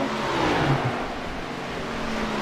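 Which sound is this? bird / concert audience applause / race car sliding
race car sliding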